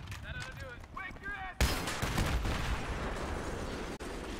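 Gunfire in Battlefield 3, where a rapid burst of automatic shots rattles on continuously after a sharp onset, while a voice talks faintly before it starts.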